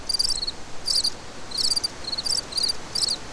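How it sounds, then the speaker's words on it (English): Crickets chirp in quick repeated bursts, rhythmic and shrill over a soft background hiss, with no voices. "The crickets are going crazy tonight."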